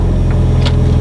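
An R34 GTR race car engine runs steadily, a loud low rumble with no gaps, heard close up.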